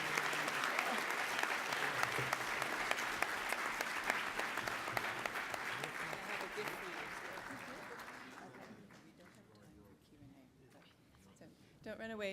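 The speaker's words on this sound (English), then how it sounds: "another round of applause for the Foodie Physician" Audience applause at a healthcare conference in the Cayman Islands, a dense, sustained clapping crowd that holds steady for several seconds, then thins and fades toward the end as a voice begins speaking over it.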